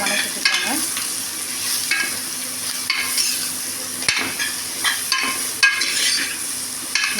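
Sliced mushrooms stirred and sautéed in a pan for a Tamil mushroom curry, a steady close sizzle broken by repeated scraping stirs, with no voices.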